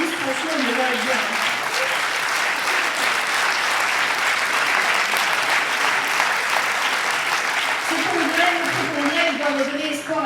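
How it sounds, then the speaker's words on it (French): A congress hall audience applauding young socialists at a political party congress in Marseille, sustained dense clapping filling the room, with a voice speaking over it near the beginning and again near the end. "vous pouvez applaudir les jeunes socialistes, franchement, ils le valent bien"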